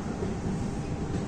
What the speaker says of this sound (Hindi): 2 मिनट रुकने के बाद जो अपनी ट्रेन निकल चुकी है अभी करनाल रेलवे स्टेशन से